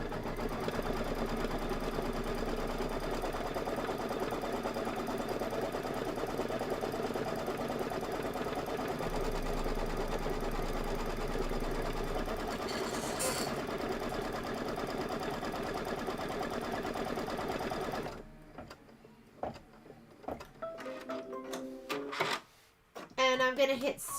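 An embroidery machine stitching a Kimberbell quilt block design runs with a steady, continuous mechanical whir for most of the stretch, then stops, followed by scattered clicks and handling noises and a voice talking.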